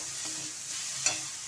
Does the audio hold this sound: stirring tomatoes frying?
yes